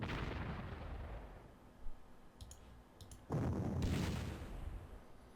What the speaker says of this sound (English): So we will concentrate our artillery fire on Honnefoss.